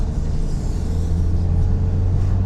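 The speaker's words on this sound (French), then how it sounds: "Je vais accélérer juste après le virage. Hop, j'accélère un peu fort." A 2008-era Mazda MX-5 NC 1.8 coupé cabriolet accelerates firmly out of a bend, its engine a steady, fairly loud droning rumble heard from inside the cabin with no talk.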